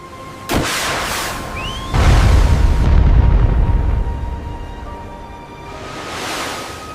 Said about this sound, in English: That's a distress signal.